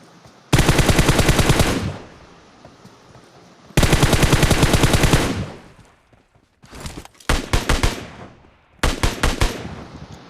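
Automatic M4 rifle fire in the mobile battle royale game PUBG Mobile, loud and close: two long sustained bursts, then several shorter clipped bursts toward the end, with no talking.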